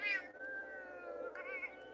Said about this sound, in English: I guess you all heard my kitty cat being grumpy